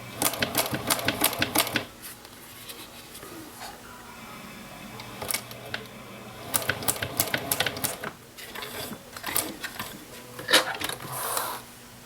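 Sewing machine stitching a leather wristlet clutch near the zipper stop, running in short rapid bursts of mechanical chatter with pauses between, close and moderately loud with no talk.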